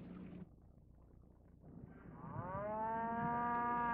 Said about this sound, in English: he and Juan see a herd of cattle coming down the valley